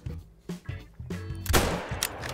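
A powerful hunting rifle fired at a saltwater crocodile in theHunter: Call of the Wild, heard as a loud, close shot with a heavy booming rumble among a few rolling, echoing bursts.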